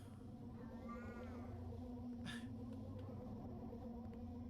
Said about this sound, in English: It's not helping that he's meowing.